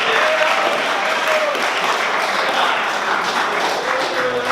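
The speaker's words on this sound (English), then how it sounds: "Round of applause for Federico right now" Audience applause at a college magic show as a volunteer comes up on stage, a steady dense wash of clapping that holds at full strength throughout.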